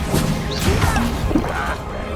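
Confringo and Bombarda spell blasts in the Hogwarts Legacy video game, loud crashing impacts with whooshing swishes packed into a short dense burst of combat noise.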